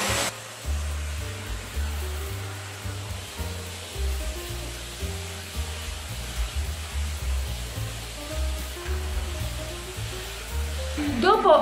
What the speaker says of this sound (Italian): Mettiamo l'accessorio alla nostra aspirapolvere